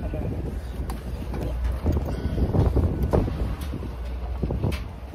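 Strong wind buffets the microphone outdoors at a planted mustard plot, a loud, continuous rumbling roar with gusty swells throughout.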